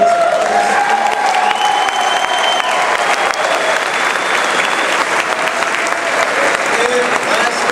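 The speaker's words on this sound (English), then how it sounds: "Another round of applause for all our great players." Large crowd applauding the players at a political event at Ohio State University, loud sustained clapping with scattered cheers and whistles washing over the whole stretch.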